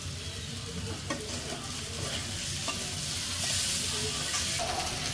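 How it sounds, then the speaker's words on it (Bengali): Cabbage and cauliflower fry in a pan with onion and egg, a loud, steady sizzle under repeated scraping and stirring strokes, growing slightly more intense near the end; no one speaks. "পাতাকপি ফুলকপিগুলো দিয়ে নিছি, ভেজে নিতে আসছি।"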